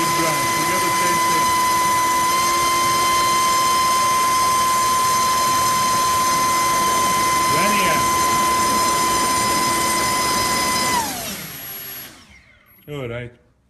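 Racekraft 5051 propeller spun on a motor at 17,000 RPM on a thrust test stand: a loud, steady, high-pitched whine and buzz holding for about eleven seconds, then winding down and cutting off, followed by a brief small noise.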